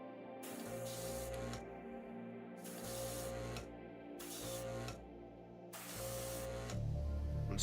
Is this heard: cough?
no